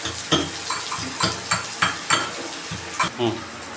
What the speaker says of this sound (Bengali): পেঁয়াজটা একটু হালকা সাঁচলানো হবে খুব